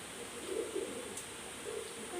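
A pair of active pigeons gives soft, low cooing in two short phrases against a faint hiss, with no talking.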